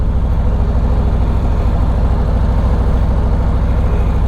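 A Harley-Davidson Milwaukee 8 114 V-twin on a 2021 Road Glide Limited idles close by, a steady, smooth low rumble with an even pulsing beat and no revving.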